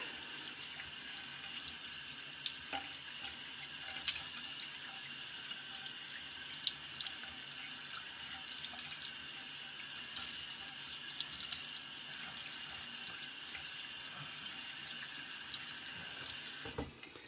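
A bathroom tap runs steadily into a sink to rinse during a shave, a continuous close rush of water with small splashes and no talking.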